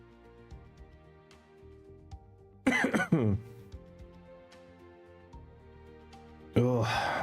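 A person coughs and clears their throat in two loud, harsh bursts close to the microphone, with quiet background music playing throughout.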